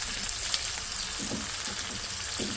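Onions and other ingredients fry for butter chicken in a pan, giving a continuous dense sizzle with faint stirring scrapes, close and even, no voices.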